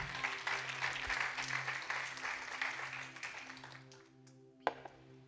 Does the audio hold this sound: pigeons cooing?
no